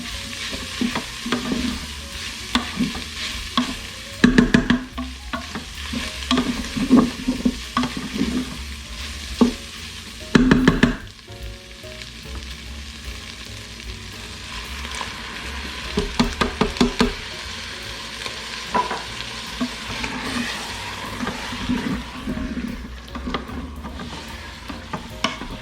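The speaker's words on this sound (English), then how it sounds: "Stir that around a bit before adding your diced tomatoes." Food sizzles in an Instant Pot while a spoon scrapes and knocks against the insert, the stirring coming in bursts over a constant low frying hiss, with no voices.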